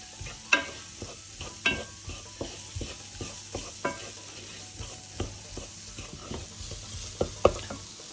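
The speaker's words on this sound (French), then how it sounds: "On mélange bien de nouveau pour bien tout amalgamer." A spoon scrapes and taps around a pan in a regular rhythm as curry chicken with tomato paste is stirred, with a gentle sizzle underneath and no voices.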